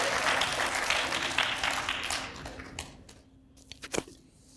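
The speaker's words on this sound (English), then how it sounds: "And applause." A school poetry slam audience applauds loudly and densely, then the clapping thins and fades, leaving a few scattered final claps.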